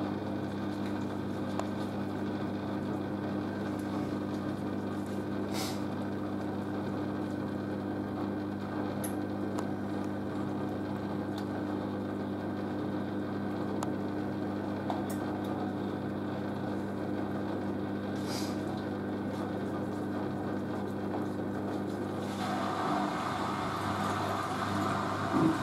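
Merloni Electra WD1100 washer dryer running its cycle, a steady low motor hum with faint clicks, continuous and close, shifting to a brighter, busier whir near the end.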